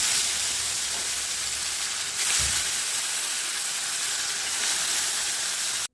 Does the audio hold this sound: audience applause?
no